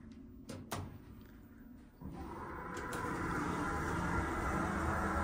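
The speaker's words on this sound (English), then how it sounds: "Listen to the motor." An elevator's drive motor at the 9 Leominster Connector building in Leominster, MA, starts up after a couple of soft clunks and settles into a steady, rising mechanical hum.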